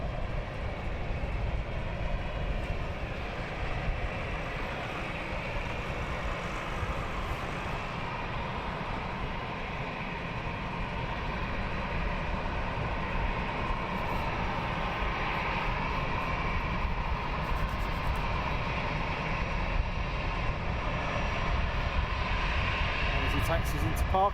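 A steady, broad jet roar from an aircraft at London Luton Airport holds for over twenty seconds, loud and continuous, with a person talking over it.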